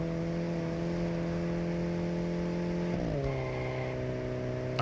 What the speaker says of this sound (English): the engine doesn't sound particularly meaty on it